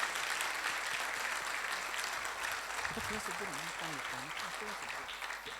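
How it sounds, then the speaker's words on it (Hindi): A church congregation applauds during a Lenten Sunday sermon, a steady dense wash of many hands clapping that holds for several seconds, with a voice talking over the latter part. "जोरदार ताली खुदाबंद के जलाल के लिए बजा दें।"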